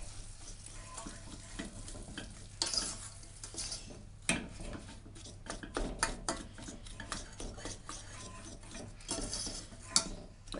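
A spoon stirs a stracciatella cream cake filling mixture in a bowl, with steady scraping and occasional sharp knocks on the rim, close and fairly quiet, no talking.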